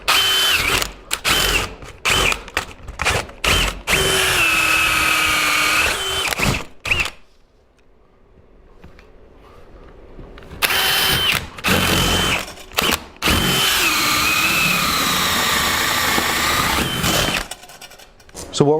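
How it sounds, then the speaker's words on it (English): A power drill drilling through garage wall studs whirs in repeated bursts, stopping and starting with short pauses, then runs again after a quieter stretch; close and loud. "So again, I'm just going to drill across."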